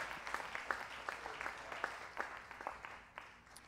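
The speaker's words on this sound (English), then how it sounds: "Clap your hands unto the Lord." Worshippers clap their hands in a church during praise, making distinct sharp claps in a loose, roughly regular rhythm over a soft background that fades toward the end.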